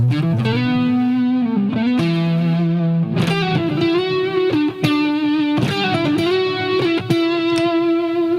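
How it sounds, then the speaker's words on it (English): An electric guitar played through a Line 6 Helix with a pitch detune effect and the distortion switched off rings out in sustained, shimmering, thickened chords and single notes, changing every second or so, loud and close with no talking. "we'll put up on that that pitch detune, give it a little bit more thick"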